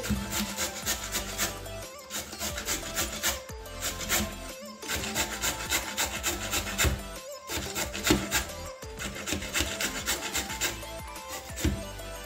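Carrots grated by hand for a vegetable paratha filling, a steady scraping rasp in repeated strokes with short pauses between passes, close and fairly loud, no talking over it.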